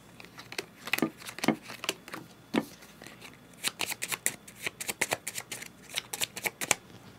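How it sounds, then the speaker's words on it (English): A deck of board game cards is shuffled on a tabletop, a series of quick crisp riffles and snaps, close and fairly loud, with no talk. "We will shuffle these."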